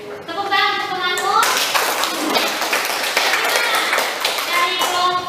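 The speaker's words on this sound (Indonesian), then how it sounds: "tepuk tangan untuk temanmu" A school class applauds a classmate after a presentation; children's voices come first, then a burst of close, brisk clapping from many hands that carries on to the end, with a voice returning at the finish.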